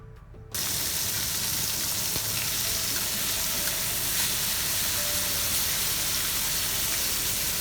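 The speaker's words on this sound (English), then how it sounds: "a little bit of olive oil, and then I'm gonna sear my meat" Beef searing in butter and olive oil in a very hot pan, a steady loud sizzle that starts abruptly after a brief quiet moment and holds dense and even throughout, no voices.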